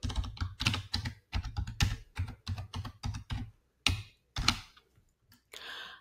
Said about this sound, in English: I'm going to enter in the user ID. And I'm going to enter in the password.